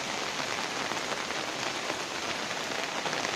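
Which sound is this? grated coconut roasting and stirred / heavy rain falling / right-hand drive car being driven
heavy rain falling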